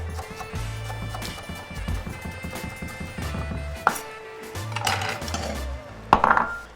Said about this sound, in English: Nice thin strips. And oops, that's a bit much. And then just a julienne.